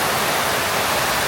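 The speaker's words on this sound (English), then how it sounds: "absolutely deafening in here, the noise of the water" Loud rushing water roars continuously inside a koi fish house, a dense, deafening wash of noise with no break or voices.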